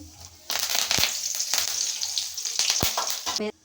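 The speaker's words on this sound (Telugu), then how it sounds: "ఆయిల్ హీట్ అయింది దాంట్లోకి జీలకర్ర వేసుకుంటున్నా పోపు దినుసులు ఎండుమిరపకాయ" Cumin seeds, dried red chillies and curry leaves hit hot oil for a brinjal fry tempering, setting off a loud, crackling sizzle that bursts in suddenly, stays steady with small pops, then cuts off.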